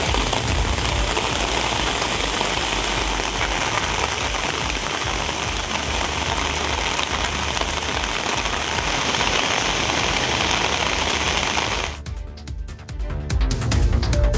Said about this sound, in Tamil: செங்கல்பட்டு மாவட்டத்தில் வல்லம், ஆலப்பாக்கம், திருமணி, திருவடிசூலம் உள்ளிட்ட இடங்களில் பெய்த மழையால் பொதுமக்கள் மகிழ்ச்சியடைந்தனர்.